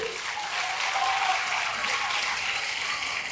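Applause for the Ministry of Public Works at an Indonesian public address, a steady wash of many hands clapping together, fairly loud and sustained throughout with no clear voices above it.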